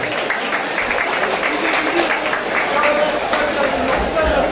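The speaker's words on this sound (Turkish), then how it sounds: "Sayın Erkan Yıldırım'ın ablası Demet Kılıcı alkışlarınıza buraya alıyorum." An audience at a village association solidarity night claps steadily, a busy wash of applause and crowd noise with voices mixed in underneath throughout.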